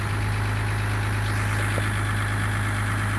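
A loud cold Ram EcoDiesel truck engine idles steadily, with a constant low hum and rough, rapid knocking clatter close by, no voices.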